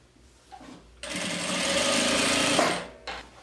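A sewing machine runs one steady straight stitch along a blazer neckline, a close, loud, even whir lasting about two seconds, with quiet handling sounds before and after.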